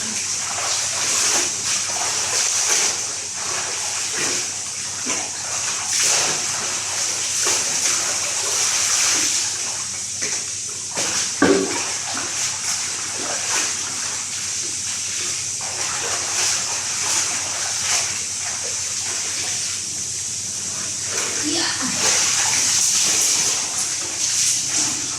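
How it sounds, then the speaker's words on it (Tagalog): Clothes washed by hand in water, with continuous splashing, sloshing and wringing at close range, rising and falling over a long stretch with brief louder splashes. "maglaba na tayo ng mga damit"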